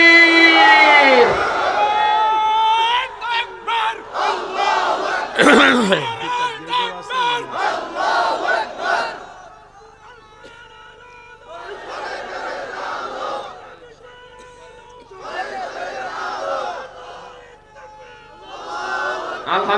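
A large crowd roars a unison chant at a Bangla Islamic sermon gathering, answering the preacher's takbir call with loud, overlapping voices before scattered shouts and talk take over.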